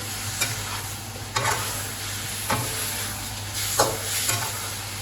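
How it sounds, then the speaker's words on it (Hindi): Salted chicken stirred and fried in a pan under a constant sizzle and a low hum, with about five spatula scrapes spaced roughly a second apart, close and alone. "अभी मैंने इसको फ्राई करना है"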